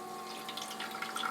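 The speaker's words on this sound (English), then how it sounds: "So when you turn it on, it fills with water." A New Air countertop ice maker filling with water gives a faint, steady trickle and gurgle with a soft pump-like hum underneath, close by and without voices.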